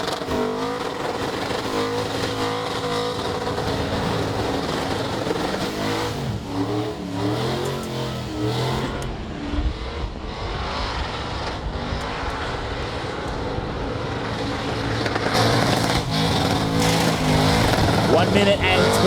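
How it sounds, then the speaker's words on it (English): Holden HQ Ute doing a long burnout skid at the Motorvation 35 event, its engine revving hard and continuously with tyre roar, loud and close, while a commentator talks over it. "into the skid for Bailey Marsh, continuing to pump this HQ and pop a tyre off"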